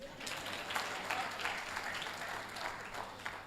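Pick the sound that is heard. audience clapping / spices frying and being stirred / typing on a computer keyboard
audience clapping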